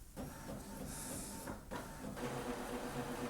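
An Epson ET-3850 inkjet printer prints a page: faint mechanical whirring, hissing and sliding feed sounds with short rhythmic clicks as the print head moves, heard alone.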